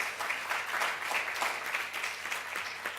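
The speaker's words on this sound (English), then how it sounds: "Yes, give him a round of applause." An audience at a policy roundtable on antipoverty and juvenile justice reform applauds steadily, a dense wash of many hands clapping at moderate loudness, fairly even with soft swells, no voices over it.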